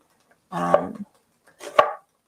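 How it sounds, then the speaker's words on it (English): Two quick crunching chops as a small manual chopping tool with a built-in blade cuts onion in a kitchen, close and distinct with a pause between them. "This is a little chopping tool that just has the blade right there."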